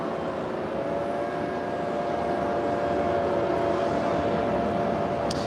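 Aircraft taking off from runway 25 right at LAX, a steady distant jet engine roar with a faint whine, continuous and unchanging throughout.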